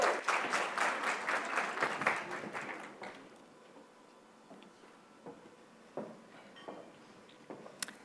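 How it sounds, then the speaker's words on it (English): A conference audience at an HR event applauds as panelists walk on stage, a short burst of clapping that quickly dies away into scattered single claps and small knocks in a quieter room. "Please give them a round of applause as they join me on stage."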